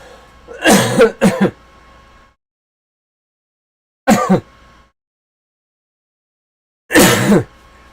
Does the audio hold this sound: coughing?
yes